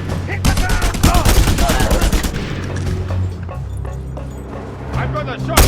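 Dense, loud bursts of automatic gunfire in the video game Just Cause 2, rattling continuously for several seconds and then thinning out, with in-game voices shouting over the shooting.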